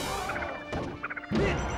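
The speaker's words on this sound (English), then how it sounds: "Oh, he just forward smashes him." In a Super Smash Bros. Melee match between Fox and Samus, Fox's forward smash lands as a punchy impact with a crunchy crash, followed by a second hit amid electronic game effects.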